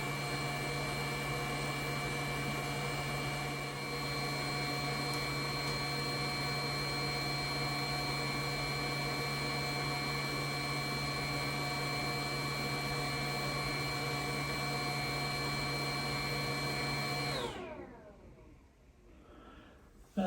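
A HumminGuru ultrasonic record cleaning machine hums through its drying cycle with a steady, even tonal whir that holds for most of the clip and then cuts off abruptly near the end, leaving near silence.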